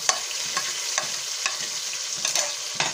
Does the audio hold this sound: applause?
no